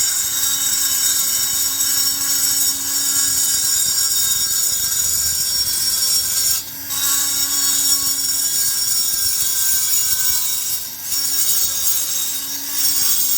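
Skinny carbide burr in a Foredom-type rotary tool grinding metal inside a cylinder port, a steady high whirring scrape that runs continuously at close range with two brief dips, no talk.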